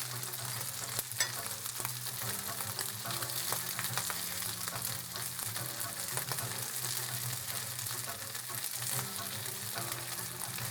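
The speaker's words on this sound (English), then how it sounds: "me frying up these mushrooms" Morel mushrooms fry in a pan with a steady, close crackling sizzle that carries on without a break, and nobody speaks.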